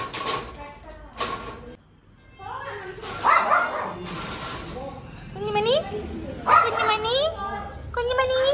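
A puppy yips and barks in short bursts at a home, heard intermittently under and between people talking nearby.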